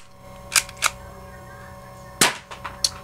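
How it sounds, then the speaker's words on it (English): An airsoft gun fires through a homemade silencer: sharp muffled snaps, two near the start and a louder cluster later with fainter clicks, close and dry against a quiet background. "that was my airsoft silencer review and how to make the silencer"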